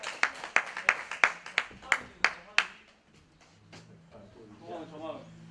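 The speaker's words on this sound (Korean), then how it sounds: "박수 한번 쳐주세요." A small high school youth group at a church online service claps in a sparse, uneven burst of about ten distinct claps, then it fades and people talk quietly in the room.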